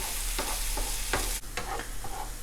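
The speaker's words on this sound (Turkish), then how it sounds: "Şimdi güzel yine kavuruyoruz soğanlarımızı" Chopped onions sautéing in a pan for a Circassian metez dish, a soft sizzle broken by several distinct scraping stirs of a utensil against the pan, close and fairly quiet, with no speech.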